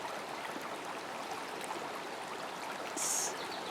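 A fresh stream in a wooded creek flows over stones with a soft, continuous babble, fairly quiet and steady, with a brief high bird chirp near the end and no voices.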